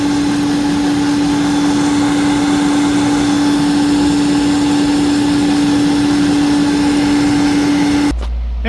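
Thermax AF1 vacuum runs with its power nozzle attached during an airflow test, a loud steady motor drone with a constant whine for about eight seconds before it cuts off abruptly.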